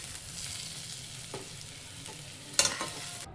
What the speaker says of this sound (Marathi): कांदा आपला सोनेरी रंगावर परतला गेला आहे